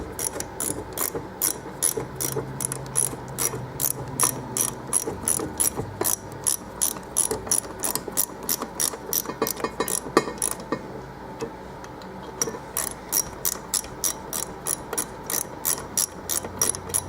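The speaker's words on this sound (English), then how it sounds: "So you take the 7/16 socket and go ahead and tighten those 4 up." A ratchet fitted with a 7/16 socket tightens four bolts on an MT-82 shifter, giving loud, rapid clicking bursts in regular strokes with a brief pause midway, close up and with no talking.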